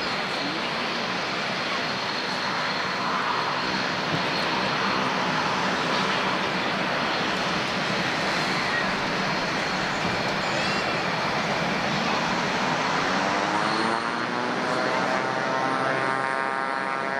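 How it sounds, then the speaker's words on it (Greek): Greek Air Force T-6 two-seat military trainer aircraft take off at Tanagra, a loud continuous propeller and engine roar holding steady and then gradually receding with a shifting whine. "Αρχίζει η απογείωση των TAF 6."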